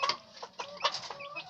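A hen looking after a brood of turkey poults gives soft, close clucks in short irregular bursts, with thin higher calls scattered between them against an otherwise quiet background.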